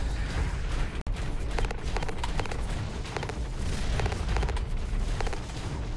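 Rapid mechanized gunfire and booming shots sound in the mech shooter Hawken, dense and continuous, with one sharp cut near the start and bursts of repeated shots throughout.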